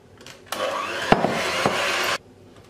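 An electric mixer whirs loudly for under two seconds while beating orange cake batter, with a few knocks against the bowl, starting and stopping abruptly.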